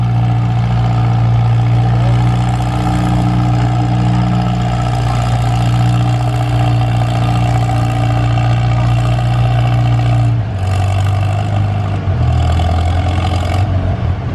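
A Farmall M antique tractor runs at an outdoor tractor show and pull, with a loud, continuous engine drone close by that holds steady and then drops in pitch near the end.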